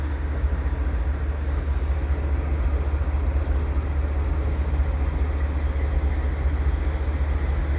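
A heavy freight train with container stacks rumbles steadily past in winter, a continuous loud roar of wheels and cars with no letup.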